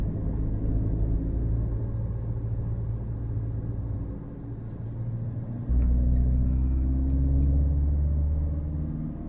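A car drives along a road in Austria, its low engine and tyre rumble steady inside the cabin, dipping briefly and then swelling louder and deeper for the last few seconds.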